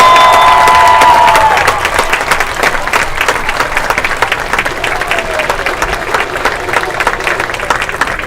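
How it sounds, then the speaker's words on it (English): A crowd in stands at a high school football senior night applauds and cheers for the football seniors, loud clapping that starts strong, then settles into a steady, thinner round of claps. "Please give a round of applause to your football seniors."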